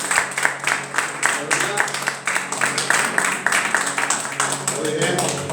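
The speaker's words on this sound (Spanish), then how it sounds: "Le damos un aplauso a Jesús." A church congregation claps together in a lively, rhythmic burst of applause that stays fairly loud throughout, with voices mixed in.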